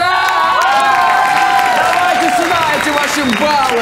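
A television studio audience at a comedy game show applauds and cheers loudly, with whoops and high excited shouts rising over continuous clapping from start to finish.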